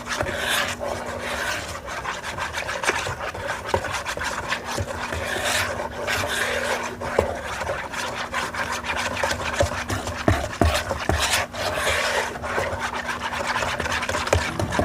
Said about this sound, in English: I'm going to use a wire whisk to start out.